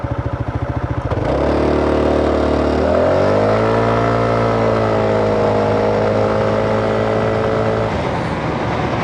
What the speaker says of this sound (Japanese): 先頭止まったのでちょっと加速してみましょう。